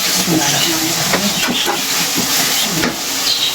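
Minced chicken with potato and capsicum frying in a hot pan in a Pakistani home kitchen, giving a steady loud hiss with occasional stirring clatter while someone talks over it.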